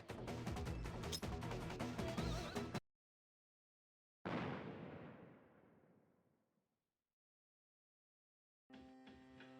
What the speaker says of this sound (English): A loud explosion sounded from below.